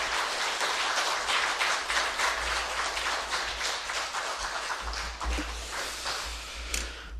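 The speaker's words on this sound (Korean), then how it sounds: "우리 김태형 목사님 나오실 때 우리 뜨거운 박수로 환영하는 박수로 이렇게 올려드리기 바랍니다." A church congregation applauding to welcome a pastor, steady dense clapping from a large crowd lasting several seconds, fairly distant and even, no talk over it.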